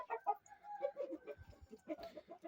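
A young rooster clucks close by in short, irregular bursts, with brief soft calls and quiet pauses between them.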